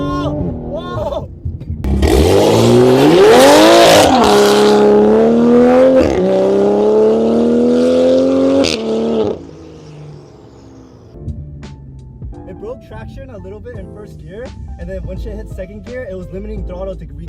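A Toyota GR Supra's engine roars loudly in a launch-control start, revving hard for several seconds, pitch climbing with each gear, then drops away to quieter sounds.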